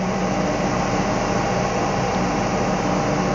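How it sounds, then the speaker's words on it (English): Steady broadband hiss of a car air conditioner blowing, a replacement Japanese AC unit in a hardtop vehicle, continuous and close with no talking. "Aircon works well."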